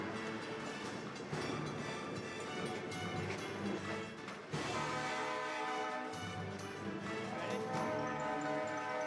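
A train heard in the open, its rumbling rail noise steady and moderately distant, with a brief drop in level midway before it carries on.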